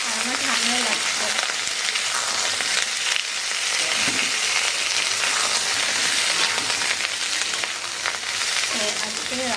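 Beans and potatoes fry in a pan, a loud, steady crackling sizzle heard up close throughout with occasional stirring, while a voice talks faintly in the background at moments.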